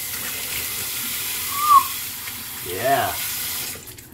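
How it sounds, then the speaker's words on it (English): A tap runs steadily into a sink as a face is rinsed after a straight-razor shave, with water gushing close throughout and a brief spoken word partway through. "I'm gonna rinse off."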